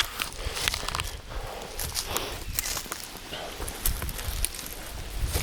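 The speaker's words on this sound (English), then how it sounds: "And that is the sound of wind, isn't it?" Wind blows outdoors in a Dorset vale, a steady broadband rush with low rumbling gusts and scattered light crackles and rustles, close and moderately loud throughout.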